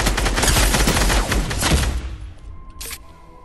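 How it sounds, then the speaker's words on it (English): Fortnite gunfire comes as a loud, rapid burst of shots that thins out and decays into quieter scattered reports and a final short crack. "Did you just shoot me?"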